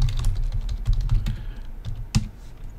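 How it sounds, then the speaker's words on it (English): Rapid typing on a computer keyboard, a dense run of close, crisp key clicks with one sharper, louder stroke near the end. "typed over Markkanen"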